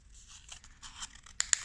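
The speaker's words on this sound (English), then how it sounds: "I'm going to grab a pen, pair of scissors to cut it out." Scissors snipping through card while cutting out a paper spaceship shape, soft rustling followed by two sharp, close clicks of the blades.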